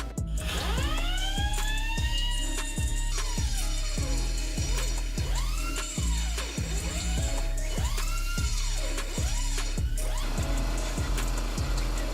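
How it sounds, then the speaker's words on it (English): Sheet metal is cut to size for a Pepsi PlayStation 1 kiosk build, giving a loud, steady rhythmic grinding pulse with rising and falling metallic whines and ringing squeals throughout, close up with no talking. "Now that I got the metal fitted, I just got to cut it down to size."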